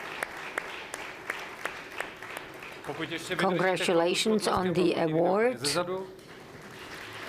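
Audience applause at a corporate responsibility award ceremony sounds as scattered claps at first, then a host speaks over continued clapping from the crowd.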